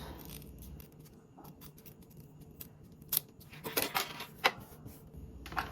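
Scissors trim the cut ends of zipper tape down to 3/16 inch while sewing a bag from stiff mesh, giving several quick, close snips with faint handling noise between them.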